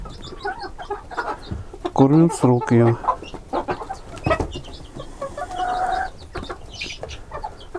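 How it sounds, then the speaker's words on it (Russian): Chickens on a village smallholding, including a white hen being picked on by others, cluck in short bursts near the microphone while someone talks over them. "Обижает мою вот эту белую курочку."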